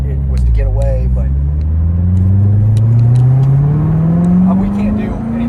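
A Corvette C7 Z06 engine with a manual transmission rumbles and climbs steadily in pitch as it revs up through acceleration, heard from inside the car with voices talking over it.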